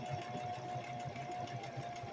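A sewing machine stitching slowly through a wool diaper cover, steady mechanical whirring with soft rhythmic needle pulses and a constant thin hum, close and continuous.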